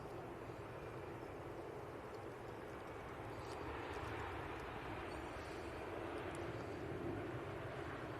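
An Emirates A380 airliner rotates during takeoff, heard as a faint, distant, steady jet roar that holds at an even level throughout.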